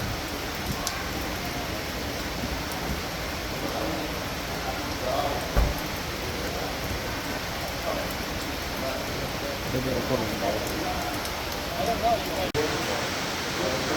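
Steady rain patters on surfaces throughout at a koi farm in Japan, a dense and even hiss with an occasional louder drop or knock.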